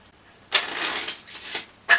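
Playing cards are riffle-shuffled close up, a crisp fluttering burst followed by a second riffle and a short final snap of the cards.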